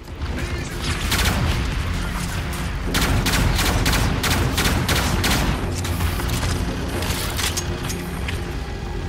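Sustained automatic gunfire in Call of Duty Infinite Warfare, rapid crackling shots in dense bursts with booming impacts, loud and close, peaking in a fast volley midway.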